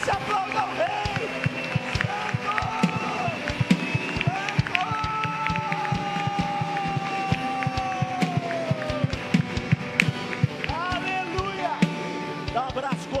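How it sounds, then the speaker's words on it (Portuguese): A church congregation claps in a loud, continuous patter of many hands, sustained throughout with cheering and a voice calling out over the applause. "Mais forte esse aplauso ao Rei"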